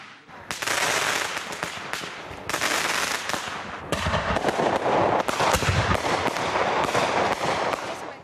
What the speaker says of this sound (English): With the Independence Day fireworks in full swing